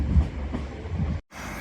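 Passenger train at Carlisle station, a steady close rumble of rolling stock with faint clatter, briefly cut by a gap, then resuming, with no talking.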